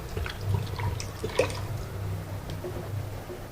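Water is poured and stirred into grated coconut meat for making coconut oil, a soft, continuous wet sloshing with small drips and a brief splash, close up and without talk.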